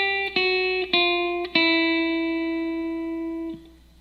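Clean guitar scale notes ring out one after another, stepping up and then back down, each plucked note sustaining clearly until the last fades after about four seconds, no talk.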